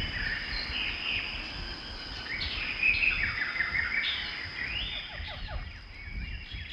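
Seabirds calling on St Brandon island, a chorus of high chirps and repeated calls over constant wind-like noise and insect buzz, mid-distance, with no talk.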